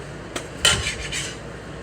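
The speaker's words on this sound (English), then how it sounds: "we're going to flip them out onto a plate." Cooked crepes tipped from a pan onto a plate, giving a couple of soft metallic scrapes and a light clatter of pan against plate, close and fairly quiet.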